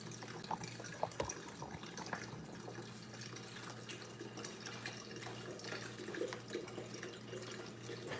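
Tap water running into a kettle to be boiled for cassava dumplings, a steady close splashing stream with small drips, quiet and with no voices.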